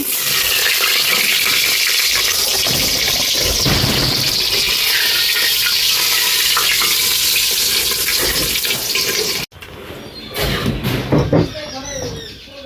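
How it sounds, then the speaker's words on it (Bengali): Eggs fry in hot oil, a dense, loud crackling sizzle that runs steadily for several seconds, then cuts off abruptly and gives way to softer, sporadic spattering and clinks. "আমার ডিমগুলো লাল লাল করে ভাজা হয়ে গেছে"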